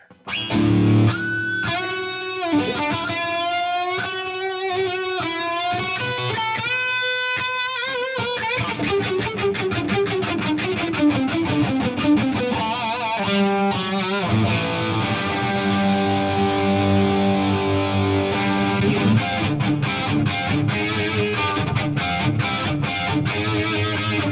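Electric guitar played through a Marshall DSL100H head with a touch of reverb, loud and alone, moving from quick melodic runs and bends into sustained, ringing chords with a lingering tail.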